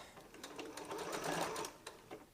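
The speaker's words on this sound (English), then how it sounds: "make sure you're not sewing fabric together that you don't want to sew together" Sewing machine stitching quilt pieces together, a steady close whir of rapid needle strokes running continuously with slight swells, no talking.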